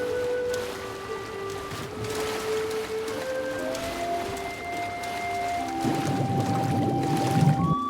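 Water effects in Nehrim, the Oblivion total-conversion game, running the Oblivion Reloaded mod: a continuous wash of splashing, pouring water under tonal game ambience, swelling louder and fuller toward the end.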